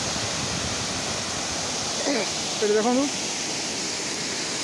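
The Budingalu waterfall, dropping water from 50-60 feet, produces a steady, even rushing roar throughout, with a brief voice speaking faintly over it partway through.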